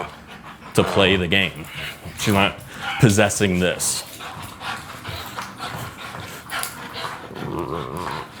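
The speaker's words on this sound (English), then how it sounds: "As much as she's growling here, she's bringing the toy back to play the game." Female dog growling playfully and panting while playing fetch-style with a toy, close and intermittent in short bursts, with a person talking over and between the sounds.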